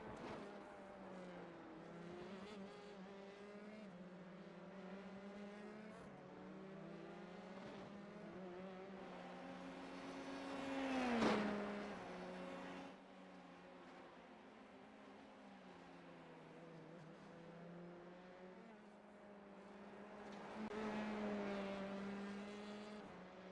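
Formula 3 race cars in the iFormula F3 sim racing game at the San Marino GP, engines whining steadily at high revs with rising and falling pitch as cars pass, one close sweep standing out midway, no talk.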